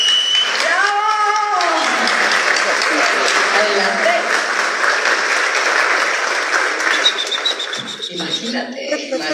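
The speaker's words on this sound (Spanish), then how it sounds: "¡Aplauso, por favor!" Loud, sustained audience applause at a football league trophy presentation in Guatemala, filling the whole stretch and tapering slightly near the end, with a voice speaking over it early on.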